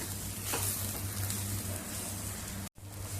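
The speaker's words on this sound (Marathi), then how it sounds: "खोबरं सुद्धा कांद्याबरोबर चांगलं भाजून घेऊया" Grated coconut and onion dry-roasting together in a pan for a Konkani-style Valache Birde masala, giving a steady close sizzle with a low hum beneath and a brief dropout near the end.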